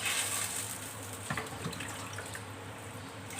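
Water pours into mung and masoor dal in a steady, continuous stream close by, filling the space with an even rushing hiss.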